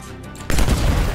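Gunfire in the sci-fi shooter Anthem: a brief quiet lead-in, then a loud, sustained burst of shots, with no talking.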